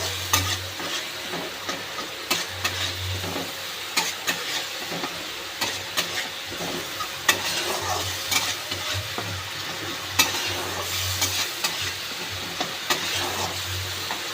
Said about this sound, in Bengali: এবার এটাকে আমি কষে নেব। যতক্ষণ না দইটা থেকে তেল বেরিয়ে যায় ততক্ষণ আমি কষতে থাকবো।